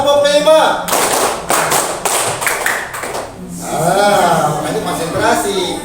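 Clapping group game in an Indonesian school or classroom session, with a burst of sharp claps in uneven counted runs, some laughter, and a voice talking before and after.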